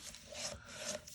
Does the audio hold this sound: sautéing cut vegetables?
no